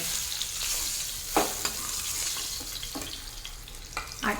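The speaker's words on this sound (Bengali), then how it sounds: "এদিকে পিঠটা ভালো করে ভাজা হয়ে গেছে এখন মাছগুলোকে তুলে নেব" Fish frying in hot oil in a kadai, a steady sizzling hiss with a few sharper spatters and utensil scrapes scattered through, close and fairly quiet, no talking.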